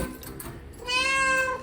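A house cat meows once, a drawn-out, clear, fairly close call that comes in after a short stretch of quiet room noise.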